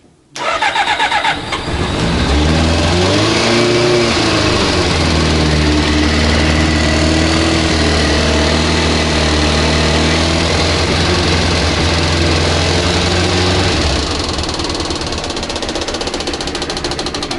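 A Kawasaki ZZR 400 motorcycle engine cranks and catches, then settles into a loud, steady running idle with a strong low drone that continues for over ten seconds before easing slightly.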